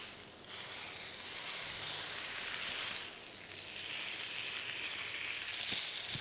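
Beef rib steak fat searing hard in a hot pan, a steady, loud broadband sizzle and hiss that runs continuously, swelling and dipping slightly over a few seconds, with no talking.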